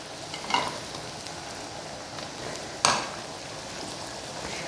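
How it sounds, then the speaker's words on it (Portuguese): Grated onion and garlic sautéing in melted butter in a pan, a steady close sizzle with a couple of louder hissing bursts when the food is stirred or moved. "Nós vamos refogar"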